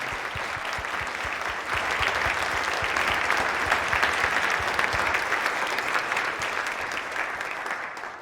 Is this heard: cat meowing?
no